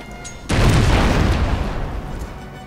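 Ship cannons firing in the strategy game Anno 1404: Venice: a single loud, deep boom hits suddenly and rolls off into a long, rumbling decay, with no talk over it.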